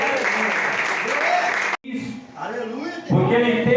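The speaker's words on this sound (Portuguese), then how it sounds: "Pode bater as palmas da glória de Deus." A congregation in a church service claps loudly for a couple of seconds. A brief break follows, then speech carries on.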